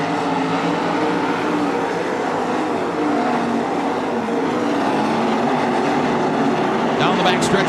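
305 sprint cars race at Attica Raceway Park, a dense, steady roar of several engines filling the track, heard from the stands at a constant loud level with no talk over it.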